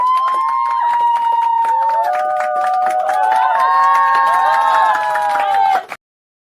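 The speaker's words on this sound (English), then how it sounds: "You know we got to give my guy Arthur Bird the one time and the ghetto clap" A ghetto clap sound effect played on a podcast: loud, dense clapping and crowd cheering mixed with bright whistle-like tones, running steadily for about six seconds before cutting off abruptly.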